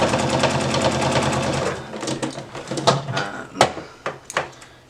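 A sewing machine stitches a small dotty mini purse in a fast, even run of needle clatter, then slows into a few separate bursts and thumps, close and clear with nobody speaking.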